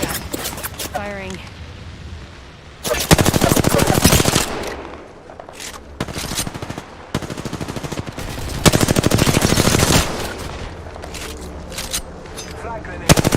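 Loud bursts of automatic gunfire in a Call of Duty: Modern Warfare II match, rapid rattling volleys broken by short pauses, with voices heard between the shots.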